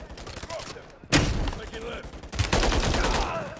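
Gunfire in Call of Duty: Modern Warfare 3 as turrets are destroyed, with bursts of rapid shots and impacts coming in two loud volleys over game ambience.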